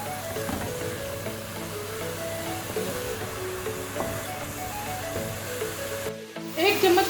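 Onion paste in hot oil in a pan for Mughlai chicken handi, a low sizzle under background music, ending in a louder burst of spitting.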